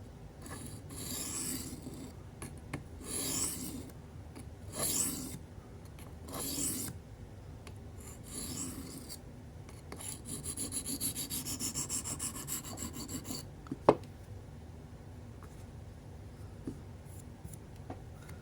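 Steel blade rubbed back and forth along a low-grit sharpening stone held in the hand, a soft rasping scrape in several slow strokes followed by quicker rubbing, close by and fairly quiet, with no voices.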